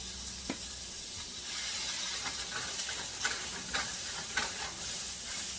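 Loud, steady sizzling of a beef patty searing in a very hot dry pan without oil, a constant hiss with occasional small pops and crackles, close by.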